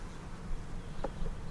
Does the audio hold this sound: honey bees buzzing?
yes